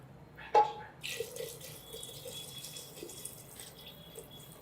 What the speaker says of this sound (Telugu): ఇక మొత్తం రసం వేసేస్తున్నాను చూడండి ఇందులో